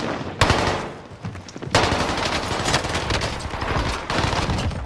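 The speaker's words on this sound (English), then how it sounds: "Start shooting up the sky." Rapid automatic gunfire in a multiplayer shooter game, loud and close, coming in sustained bursts with short pauses between them.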